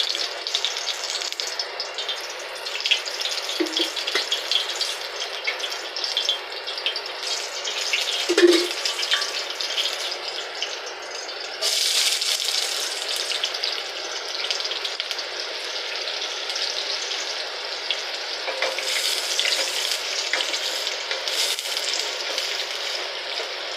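Oil and ground masala sizzle steadily in a pan, a continuous broad crackling hiss that runs the whole time with a few brief clinks and small bursts, close and fairly loud, no voices.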